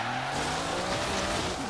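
A car in a racing video game slides sideways through a drift, the engine roaring steadily while tire squeal rises beneath it, loud and continuous for a brief moment.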